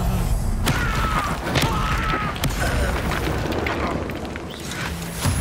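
The Incendio fire spell is cast during a fight in Hogwarts Legacy, a dense, continuous whooshing roar with thumps and booms layered over game sound; loud and sustained throughout.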